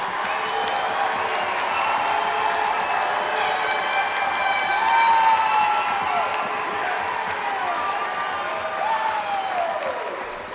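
Graduation crowd at Green Bay Southwest High School applauding the graduates, a broad, moderately distant roar of clapping and cheering with scattered whoops, sustained across the whole stretch and easing slightly at the end.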